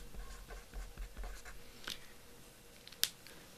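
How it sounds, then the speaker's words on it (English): Faint scratchy strokes of writing on a board during an anatomy lecture, a quick series of marks followed by a couple of sharp taps, all quiet in a hushed room. "So I'm going to write these in as the vasa recta."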